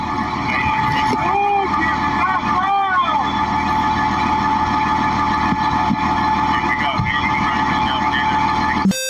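A bulldozer's diesel engine idles with a steady, loud rumble the whole time, carrying some whining and sweeping tones, while voices talk faintly in the background.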